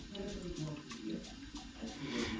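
Water gurgling and rushing through central heating pipes as the boiler system is refilled, a steady quiet flow with soft bubbling, faint and continuous.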